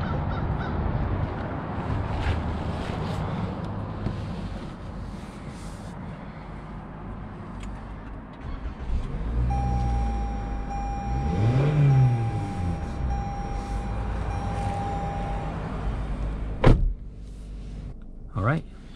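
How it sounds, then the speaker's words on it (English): A red 2021 Toyota Corolla XSE on a test drive gives a low cabin rumble, with an engine note that rises and falls midway and a couple of sharp clicks near the end. A voice talks over it. "Go ahead and take this 2021 Toyota Corolla on a test drive and see how it does."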